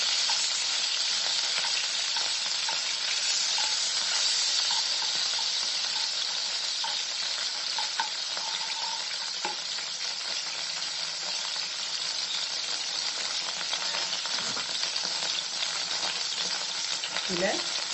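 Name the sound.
butter sizzling in a pan for paneer butter masala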